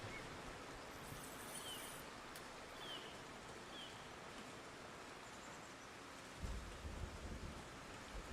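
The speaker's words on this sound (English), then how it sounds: "Yeah, the rain is 10 out of 10, yep." Steady rain with rolling thunder fills the medieval city-building game Foundation, a soft continuous hiss with a low rumble swelling near the end, faint and even throughout.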